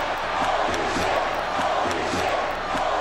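A loud, steady roar of a cheering arena crowd in the WWE 2K23 wrestling video game, continuous and building for a few seconds with no speech over it.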